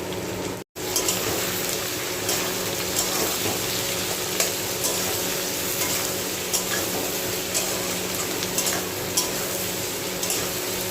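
Malabar spinach frying in a pan, a steady continuous sizzle with faint stirring scrapes running throughout at close range, uninterrupted apart from a brief dropout near the start.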